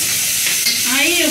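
Sweet potato hash with garlic and onion seasoning being stirred in a hot pan, a close, steady sizzle with scraping stir strokes throughout.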